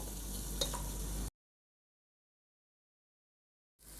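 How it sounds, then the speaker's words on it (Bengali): Sliced onions and whole garam masala frying in hot oil for beef nihari, a close, steady sizzle with a stirring clink. The sound lasts just over a second, then cuts to silence before sizzling briefly returns. "তা এখন পেঁয়াজ আর গরম মশলাগুলো আমি একটু তেলে ভেজে তারপর পায়াগুলোকে দিয়ে দিব"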